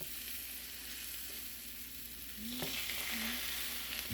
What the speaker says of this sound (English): Now the eggs have been cooking. I'm just gonna push the edges here to spread the eggs around.